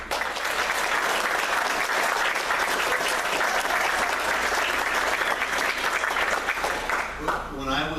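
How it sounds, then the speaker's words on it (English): A large crowd at a naval retirement ceremony gives a loud, sustained round of applause, dense and even throughout, with a voice briefly emerging as it ends. "Round of applause for Senior Chief."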